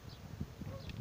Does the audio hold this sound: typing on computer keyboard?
no